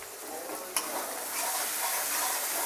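Masala with Kashmiri chili powder sautéing in a pan for a Bengali prawn malai curry makes a steady, fairly loud hiss and sizzle, with one sharp click early on; no one speaks.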